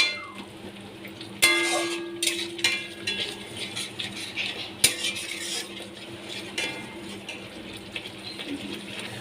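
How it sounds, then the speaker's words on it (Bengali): A utensil scrapes and clinks against a pan while stirring potatoes and paneer, in irregular strokes, with occasional sharp knocks and a soft background hiss. "এবার আমি পনির আর আলু ভালো করে কষিয়ে নিচ্ছি"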